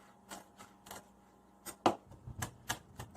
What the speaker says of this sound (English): Now I'm just going to mince this garlic up real quick